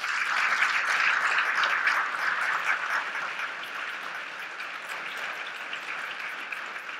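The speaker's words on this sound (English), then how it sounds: "I'd like to give you a round of applause." Conference audience applauds in a dense, steady wash of clapping from a full room, loudest at first and tapering slightly over seven seconds.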